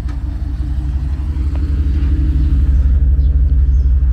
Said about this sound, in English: Still more cars arriving.